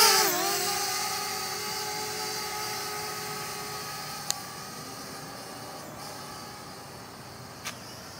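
An Eachine E52 foldable pocket quadcopter drone lifts off and flies, its high, steady propeller whine rising in pitch at takeoff then holding a constant buzzing drone, with two brief sharp clicks later on.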